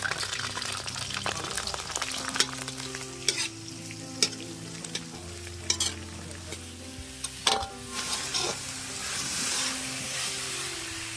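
Mixed organic vegetables fry in hot oil, a continuous close sizzle broken by scraping stirs and occasional clinks of a utensil against the pan.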